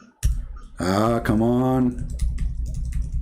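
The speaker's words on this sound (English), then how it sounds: "I'm typing. You see, it's not working." Typing on a malfunctioning computer keyboard with stuck keys: soft, irregular clicks and taps running under a man's exclamations, then continuing on their own near the mic.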